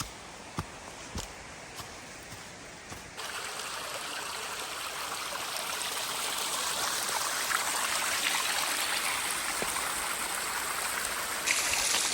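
Creek water flows where two streams meet in a winter gorge at McConnells Mill State Park, Pennsylvania, a steady broadband rushing that grows louder after a few seconds and continues alone.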